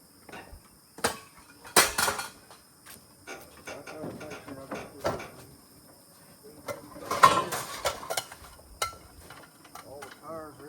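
Aluminum pans handled as scrap during a washer and dryer scrapping job give scattered, irregular metallic clanks and clatters, some sharp and close, with quieter rustling between them.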